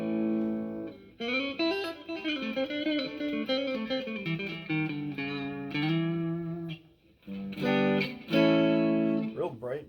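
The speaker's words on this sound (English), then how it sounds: "this is what the neck pickup sounds like on the clean channel" A Schecter Reaper 6FRS electric guitar played through its neck pickup on a clean amp channel, ringing chords and sustained notes close and clear, with a short pause before a final strummed passage.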